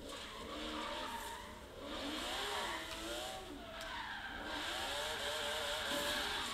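A Porsche drifts in the Forza racing game, its tires squealing in long wavering screeches over a steady engine drone, loud and continuous with brief dips between slides.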